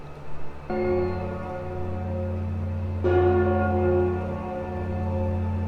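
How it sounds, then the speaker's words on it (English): Church bells ringing nearby, two strong sustained bell strikes with long humming resonance that lingers and overlaps, heard without speech. "the church bells got in the way"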